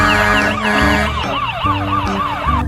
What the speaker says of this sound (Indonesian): Yang ini ada mobil ambulans.